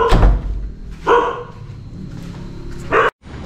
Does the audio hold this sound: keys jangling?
no